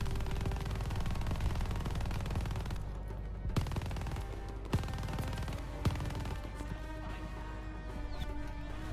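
A mounted machine gun turret fires in Call of Duty: Vanguard during the assault on Berlin: a dense, sustained wall of rapid gunfire with a few sharper, louder cracks punching through.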